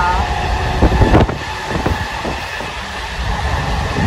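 A train runs steadily from inside its carriage on the way past Bardhaman and Durgapur, a loud continuous rumble with one heavy clunk early on, no talk.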